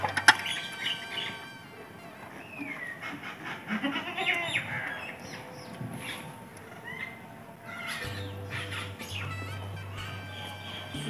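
A small goat in a rural Punjab village bleats several times at close range, with birds chirping in the background and a low hum in the later part.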